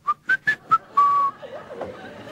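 A storyteller imitates whistling with a voice, giving four short rising whistled notes and then one longer held note, followed by light chuckling and murmuring in a studio audience setting.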